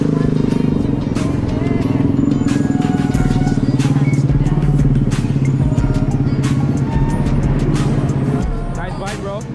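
A motorcycle rides past with a strong, steady engine hum and clear harmonic tones. It stays loud and close for several seconds, then drops away near the end.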